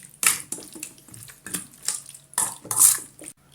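Chicken marinade with dark soy sauce gets mixed in a bowl for sticky rice dumplings, giving a few short, wet stirring and scraping bursts at close range, fairly quiet and with pauses between strokes.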